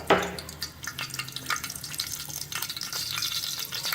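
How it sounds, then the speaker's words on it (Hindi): Curry leaves hit hot oil in a pan, a sudden loud crackling sizzle that settles into steady frying with scattered pops. "ऑयल गरम हो गया है। कड़ी पत्ता शामिल करें।"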